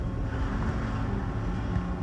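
A boat moves along a river in the Arctic Circle, a steady low engine rumble mixed with gusty wind buffeting the microphone, loud and continuous for the two seconds.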